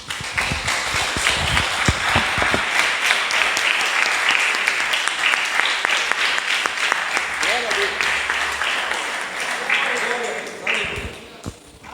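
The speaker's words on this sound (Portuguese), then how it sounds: "Vamos aplaudir a Jesus" Church congregation applauding Jesus during a Portuguese-language gospel service, dense sustained clapping filling the room, with voices and cheers mixed in and thinning toward the end.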